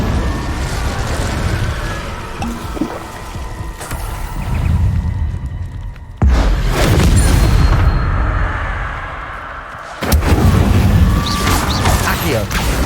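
Repeated Incendio fire spells in Hogwarts Legacy erupt as heavy whooshing bursts, each flare of flame roaring loudly over busy combat sounds, with fresh blasts arriving every few seconds.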